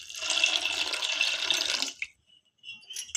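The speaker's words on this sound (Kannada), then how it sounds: "ಈಗ ನೀರು ಹಾಕ್ತಾ ಇದ್ದೀನಿ" Water poured from a vessel onto washed sabudana (tapioca pearls) set to soak for khichdi: a steady, close splashing pour for about two seconds that stops abruptly, followed by a few faint drips and small sounds.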